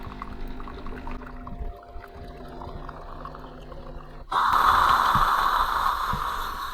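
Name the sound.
Bosch Tassimo Suny coffee machine rinsing water through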